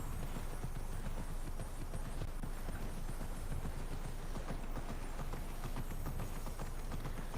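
A horse gallops in the video game Immortals Fenyx Rising, its rapid hoofbeats drumming continuously and evenly at a steady, full volume with no talking.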